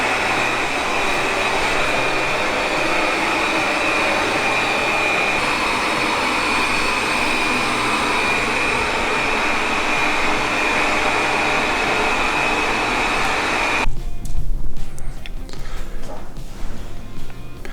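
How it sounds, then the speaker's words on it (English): A Proscenic M7 Pro robot vacuum vacuuming and mopping at once, giving a steady, loud motor whir with a high whine throughout, and a few bumps and clatters near the end. "So it's going to vacuum everything in front of it and mop from the back."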